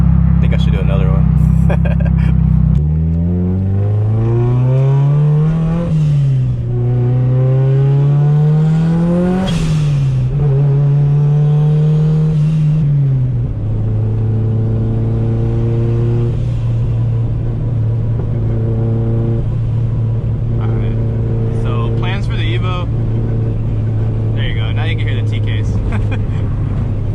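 A Mitsubishi Evo 9 on a stock block pulls hard, its engine note climbing through the gears, then settles into a steady loud drone close by, with a few brief voices and car noises late on.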